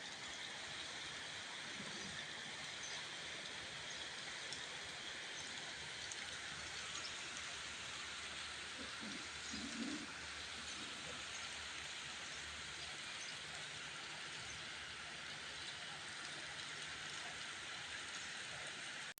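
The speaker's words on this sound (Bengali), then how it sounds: "সকাল থেকে বৃষ্টি হচ্ছে, ঘুম থেকে উঠে দেখি বৃষ্টি হচ্ছে।" Steady rain falls outdoors in the morning, a continuous broadband hiss of drops that holds evenly throughout, with no voices over it.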